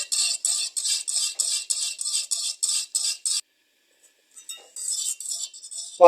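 A spoon stirs vanilla custard in a pot, tapping the metal in a quick, steady series of bright clinks. After a brief silence, softer clinks resume.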